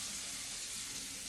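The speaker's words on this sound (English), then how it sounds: "Washing my hands" Steady running water pours from a kitchen tap as hands are washed, a continuous broadband hiss close by with no talk, while shrimp cook on the stove.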